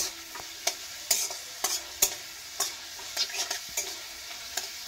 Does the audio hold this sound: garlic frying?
yes